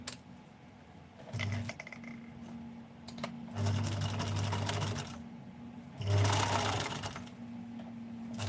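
A sewing machine stitches a hem along the top of a garment, running in short bursts of close, steady whirring separated by pauses.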